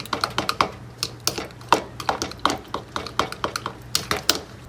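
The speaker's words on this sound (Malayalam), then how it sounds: "നന്നായിട്ടങ്ങ് മിക്സ് ചെയ്യാം. ഫോർക്ക് ഉപയോഗിച്ച് തന്നെ" A fork rapidly beats egg mixture in a bowl for a bread omelette, making quick, irregular metallic clicks and taps against the bowl, close and fairly quiet.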